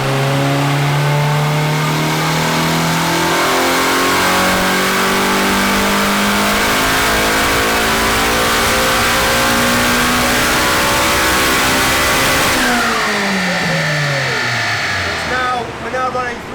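A turbocharged Honda Civic engine revs hard on a dyno, a loud sustained climb through the gears with rising pitch, then a sharp lift-off and deceleration near the end, alone without talk.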